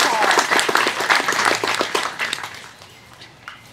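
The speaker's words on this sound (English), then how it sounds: "She needs a clap. She works hard." A room full of people at a botanical garden dedication applauds with dense, lively clapping that gradually thins out and fades toward the end.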